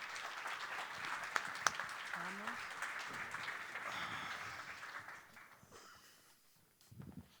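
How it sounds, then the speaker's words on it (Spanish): A conference audience applauds four streaming-industry panelists, a broad, even wash of clapping that holds steady, then fades toward the end before a brief voice. "Fuerte aplauso para los 4, por favor."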